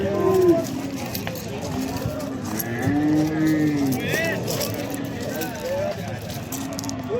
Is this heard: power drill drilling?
no